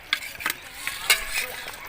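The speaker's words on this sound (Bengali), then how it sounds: "এবার আমি মাছ ভাজাগুলো সব দিয়ে দেবো।" Fried jiol fish pieces going into a boiling curry, with a few soft clinks and scrapes over a quiet simmering sizzle.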